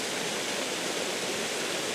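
Water rushing steadily in a stream or small waterfall at a landscape photography spot, a dense continuous broadband wash heard up close and alone, with no talk.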